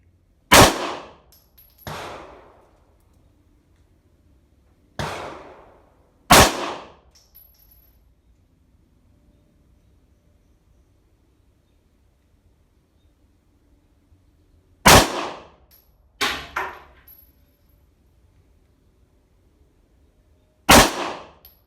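Pistol fitted with a UUQ Mini reflex red dot sight fired at a shooting range: sharp, loud single shots spaced irregularly, sometimes in quick pairs, with long quiet gaps between them and no talking.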